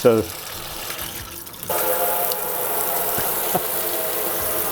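A malfunctioning kitchen faucet in an older home turns on and water runs steadily into a sink, following a brief clunk and sputter.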